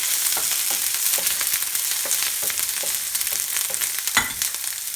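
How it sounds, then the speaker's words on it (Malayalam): Sliced ginger and slit green chillies sauté in a pan, giving steady loud sizzling with occasional stirring scrapes and clicks throughout, no voices. "ഒരു ചെറിയ കഷ്ണം ഇഞ്ചി ചെറുതായി അരിഞ്ഞത്, ഒരു 4 പച്ചമുളക് നീളത്തിലരിഞ്ഞത്, ഇത്രയും ഒന്ന് വഴറ്റിയെടുക്കണം"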